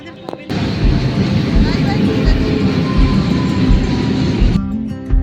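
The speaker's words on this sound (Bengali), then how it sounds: "তো ট্রেন আসছে" A local train rumbles into Nalpur station, loud and close, a heavy continuous roar with clanking that fills the scene before cutting off near the end.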